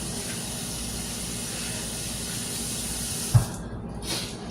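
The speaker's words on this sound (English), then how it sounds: "Come on, wash my hand, y'all." A kitchen tap runs steadily while hands are washed during fried chicken seasoning, a continuous close hiss of flowing water with a brief clunk near the end before the stream cuts off.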